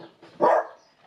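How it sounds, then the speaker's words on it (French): A guard dog gives a single short, sharp bark in a quiet setting, close and moderately loud, with a faint lead-in sound just before it. "c'est mon chien de garde"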